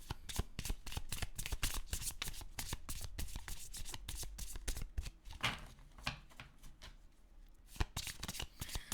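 Holographic tarot oracle cards are shuffled by hand, a continuous close riffle of rapid, papery flicks and taps that runs steadily for several seconds without speech.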